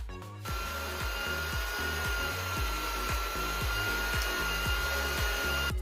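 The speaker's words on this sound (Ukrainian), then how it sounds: "Масло розтираємо з цукром. Додаємо ще дрібку солі і все збиваємо міксером." An electric hand mixer beats butter with sugar and a pinch of salt for a fruit pie, a steady close whir with regular rhythmic low thumps as the beaters turn in the bowl.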